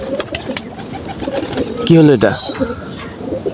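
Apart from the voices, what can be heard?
pet pigeons cooing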